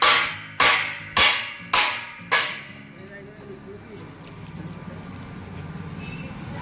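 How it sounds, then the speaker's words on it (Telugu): A hammer strikes five sharp, evenly spaced blows in quick succession, loud and close, followed by people talking over a low background. "సుత్తితో అలా కొడుతుంది"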